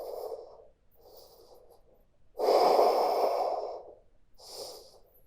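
Deep breathing during an at-home hot yoga class: four audible breaths through the nose, loud and close, with a long forceful exhale in the middle and short pauses between.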